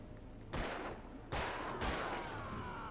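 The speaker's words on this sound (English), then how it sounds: "I hear gunshots still" Two loud video game gunshot bursts a second apart, sharp cracks with ringing tails, followed by softer distant firing in the background.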